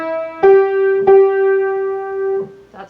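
Piano right hand plays the opening phrase of the folk song Oh! Susanna starting on C, a few clear separate notes struck and sustained, close and alone with no talk.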